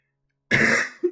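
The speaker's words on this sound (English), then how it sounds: "I'm still coughing from a cold." A single close throat clearing followed by a short cough from someone with a cold, after a moment of silence.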